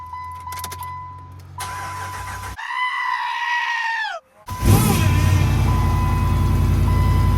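A Hemi-swapped Jeep JK cranks with a whining starter, catches with a sharp roar, then settles into a loud, steady rumbling idle.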